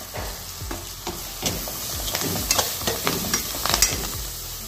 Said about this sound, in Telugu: మెంతికూర వేగింది, ఫ్రై అయింది.